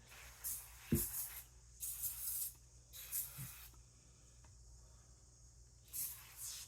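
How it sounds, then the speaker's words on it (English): A spray bottle hisses in several quick squirts onto dirty box fan grates, separated by short pauses, close and fairly quiet with faint tapping between bursts. "I'm just gonna spray these down real good."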